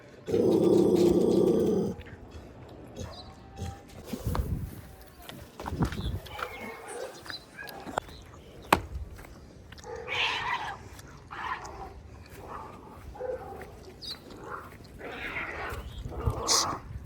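Street dogs growling while being handed biscuits in Rajkot, with a cat meowing nearby: a loud yowl at the start, then low, uneven snarls and yelps under people talking.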